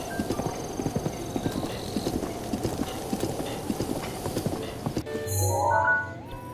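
Horse hooves clip-clopping in Zelda: Breath of the Wild, a quick, steady run of close hoof beats that stops near the end, followed by a short snort or whinny.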